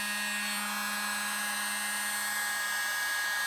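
A hair dryer blows steadily on poured acrylic paint, a loud, constant motor whine and airflow hiss heard up close, with no voices over it.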